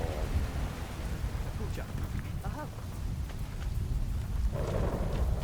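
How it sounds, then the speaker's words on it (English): Steady rain and low rumbling storm noise from Submerged: Hidden Depths gameplay wash over the whole stretch, loud and continuous, with brief voice-like tones briefly surfacing midway. "Well, we definitely hit a storm."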